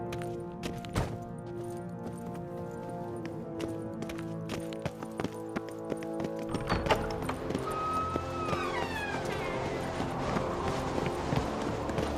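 In The Witcher 3: Blood and Wine, a horse's hooves clip-clop in a quick steady gallop over a musical background, with a short whinny partway through.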